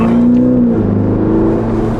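A Ferrari Portofino engine drones while driving, a loud, steady close-up hum from inside the car with a faint shift in pitch, and no speech.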